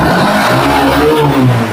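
A loud, close motorcycle engine revs with a rough, throaty growl that rises and falls briefly, no voices over it.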